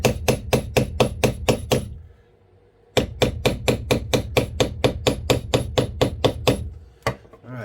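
A mallet strikes a leather beveling tool on buffalo leather in quick, even, sharp taps, two close runs of loud knocks separated by a brief pause, then a final couple of hits.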